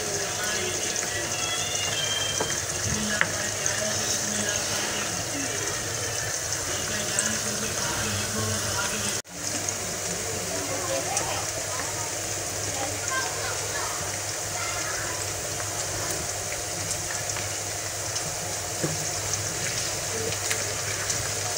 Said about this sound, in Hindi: ऐसे प्याज को मैं गोल्डन ब्राउन नहीं करूँगी, थोड़ी सी इसको मैं पका दूँ ताकि थोड़े से ये गर्म हो जाए।